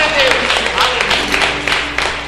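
A church congregation applauds during a sermon, a steady wash of clapping that stays loud throughout, with a voice or crowd sound mixed faintly underneath.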